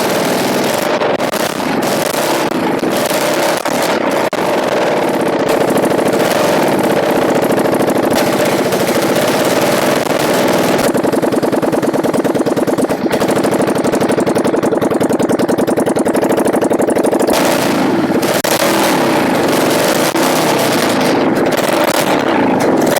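A racing lawn mower engine built on a Wheel Horse tractor runs with no exhaust fitted, a loud, harsh rapid-fire popping idle that chatters steadily and close for the whole stretch.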